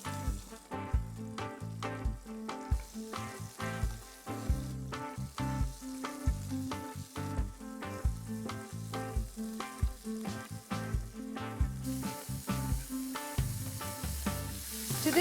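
Finely chopped onions fry in hot oil with spluttering cumin seeds, a steady close sizzle crackling under rhythmic background music throughout.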